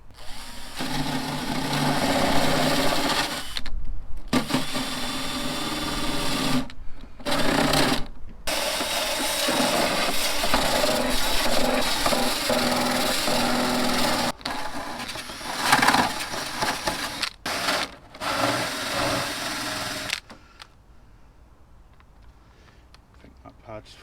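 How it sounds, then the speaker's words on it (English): Hand or power sanding on a Mazda MX-5 dashboard, a steady rough scraping rasp running nearly continuously with a few brief pauses, close and fairly loud, with bits of talk mixed in before it fades near the end. "Now with that done, sanding."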